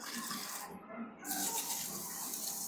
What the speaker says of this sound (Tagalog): Tapos running water lang ulit.